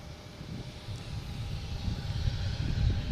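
A Boeing 747 taking off from runway 15 right at Boston Logan Airport, a distant, faint jet roar that swells steadily louder.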